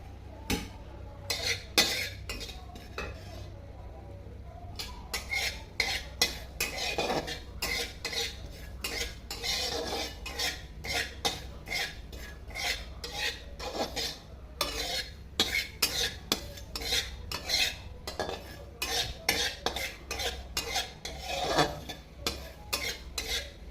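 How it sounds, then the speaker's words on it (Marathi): Poppy seeds are stirred and roasted in a pan for modak filling, with repeated metallic scraping of a spoon against the pan in an irregular rhythm, fairly close and with no voices. "तर खसखस टाकलेली आहे, तिला आपण थोडंसं भाजून घेणार आहे आता."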